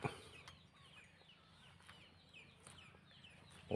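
Chickens cluck and squawk in a steady scatter of calls around a mixed crop-and-livestock farm, with several birds close by and a few sharper calls standing out over a low outdoor background.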